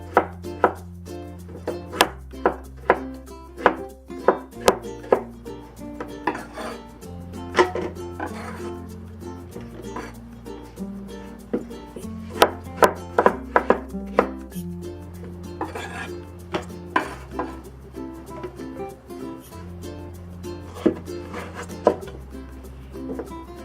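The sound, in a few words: knife chopping winter melon into chunks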